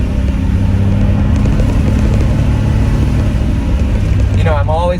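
An air-cooled Porsche 911 Targa on US ride height cornering, its engine a steady, loud, close drone throughout with road rumble, briefly joined by a chirpy whistling sound near the end.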